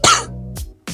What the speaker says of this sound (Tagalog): Inuubo na ako ah.